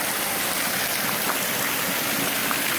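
Steady, dense rushing of the waterfall at Burden Falls, Illinois, a continuous broadband roar that holds level and unbroken throughout with no voices.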